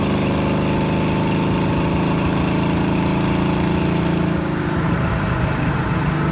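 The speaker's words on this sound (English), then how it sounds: "A little harder acceleration here for you. Like a third throttle, and it pulls well." A 1967 Chevrolet C10 Stepside pickup engine pulls under about a third throttle on a test drive, a loud, steady low drone that holds evenly before its tone shifts and roughens near the end, with no talking.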